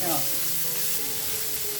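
Chopped onions frying in a pan until reddish, a steady close sizzle with faint stirring and some tonal background hum, no talking.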